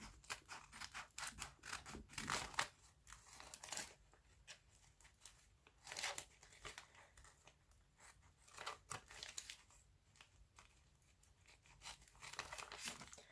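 Scissors snip through paper while cutting out a homemade DIY sticker, a close, quiet series of crisp irregular cuts with rustling and crinkling of the sheet between them, no voices.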